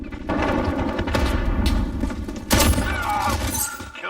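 Shotgun blasts in a video game: loud, dense gunfire and booming impacts fill the whole stretch, with a sharper burst partway through, against a busy game soundscape.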